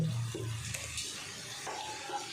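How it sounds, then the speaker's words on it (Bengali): Sliced onions frying over high flame with salt in a kadai, a faint sizzle with a few scraping stirs of a spatula, quiet and without talk. "ভালো করে ভেজে নিতে হবে জিনিসটা যাতে তাড়াতাড়ি ভাজা হয়ে যায় তার জন্য আমি এখানে দিয়ে দিলাম নুন"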